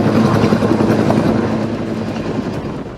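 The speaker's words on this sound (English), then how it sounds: "a helicopter rescues a man who survived several days without food or water" A helicopter flies overhead during a wilderness rescue of a stranded man, a loud, steady rotor thrum and engine whine that fades slightly toward the end, with no voices.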